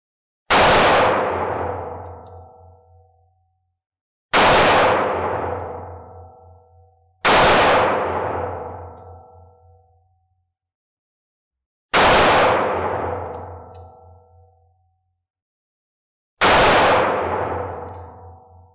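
Five loud, ringing clangs at irregular intervals, each decaying slowly, as 9mm handgun rounds strike steel targets at an outdoor range, with no talk.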